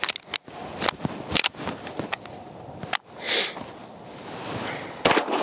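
Handgun shots fired at a cardboard target from 10 yards, several sharp loud cracks spaced irregularly, close and alone with no voices between them.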